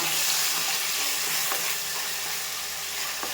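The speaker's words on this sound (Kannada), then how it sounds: "ಆಗಲೇ ನಾನು ರುಬ್ಬಿಟ್ಕೊಂಡಿರುವಂತಹ ಮಸಾಲೆ ಹಾಕಿ ನಂತರ ಇದನ್ನು ಫ್ರೈ ಮಾಡುವ" Freshly ground masala fries with onion and curry leaves in a pan for Mandya-style chicken fry, giving a loud, continuous sizzling hiss with faint stirring, no talking.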